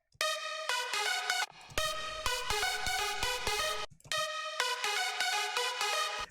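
A bright Serum synth lead with a high shelf EQ cut from 15 kHz, playing a rhythmic melodic riff in repeating phrases with short gaps, clean and alone with no voice.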